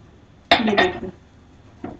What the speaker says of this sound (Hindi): पर इसको हम लगातार चलाते रहेंगे खोल आने तक।